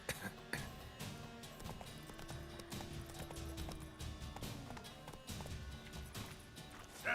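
Roach the horse galloping in The Witcher 3, steady rhythmic hoofbeats clip-clopping continuously at moderate level, with a brief whinny or snort near the end.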